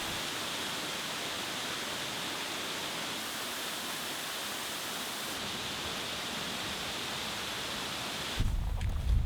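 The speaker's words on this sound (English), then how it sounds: "Katahadin Falls gushed over rocks and branches nearby" Katahdin Falls on the Appalachian Trail gushing over rocks and branches nearby, a steady broadband roar of rushing water, ending with a brief low rumble of wind or handling.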